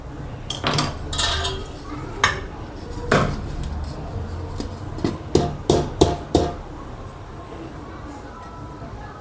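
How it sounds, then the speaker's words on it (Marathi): A knife runs around the inside of a cake tin to loosen a cooled rava chocolate cake, giving a series of sharp metallic scrapes and clinks with a cluster of quick taps near the end. "मी चारी बाजूने चाकू घालून मोकळा करून घेते साईडने"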